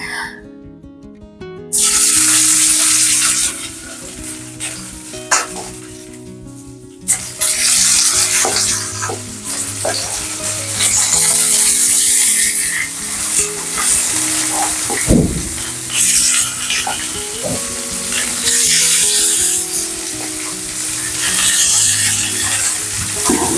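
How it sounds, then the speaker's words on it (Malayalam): Marinated fish frying in a pan, loud continuous sizzling and spattering close by, with bursts of hissing and scraping and some kitchen clatter. "എന്നിട്ട് ഇത് നമുക്കൊന്ന് ഫ്രൈ ചെയ്തെടുക്കാം. ഞാനിത് ഫ്രൈ ചെയ്യാൻ വെക്കുകയാണ്."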